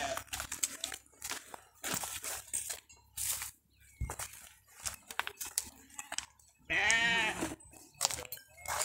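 Sheep bleat on a farm in Pernambuco's sertão, with one clear, loud bleat standing out midway amid rustling, crinkling and background movement noises.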